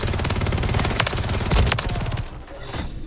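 A minigun in the video game Call of Duty MW3 fires a continuous, dense stream of rapid shots, loud and close, then cuts off near the end.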